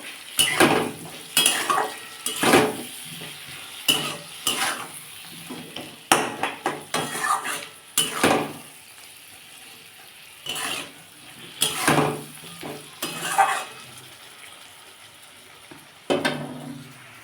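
A spatula stirs cauliflower curry masala in a metal pan, with bursts of scraping and clanking against the pan over a soft sizzle, pausing briefly between strokes.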